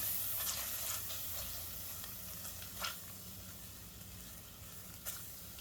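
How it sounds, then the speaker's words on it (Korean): Store-bought Korean soybean paste (doenjang) sizzles and crackles steadily as it is stir-fried in a pan, with a few sharper scraping ticks from the stirring, heard alone at close range. "넣고 그다음에 요거를 또 볶아요."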